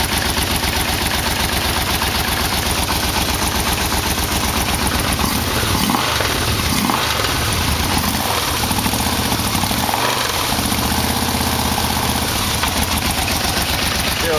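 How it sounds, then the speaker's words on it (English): A Yamaha Vmax motorcycle engine idles steadily up close with a small exhaust leak, its loud continuous throbbing rumble carrying a slight irregular puffing, with a brief voice under it. "Still sound like I got some kind of a little bit of an exhaust leak."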